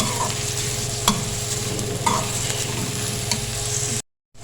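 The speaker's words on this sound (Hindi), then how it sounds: "प्याज को हम सिर्फ सौते करेंगे" Onions sautéing in plenty of oil in a karahi sizzle steadily up close, punctuated by a few distinct spatula scrapes, before the sound cuts to silence near the end.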